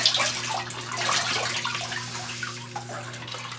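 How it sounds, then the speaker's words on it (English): Water drains and trickles out of the tube of a gold recovery pump, a close, continuous splashy gurgle under a low steady hum. "there's a little water in the tube that drains out"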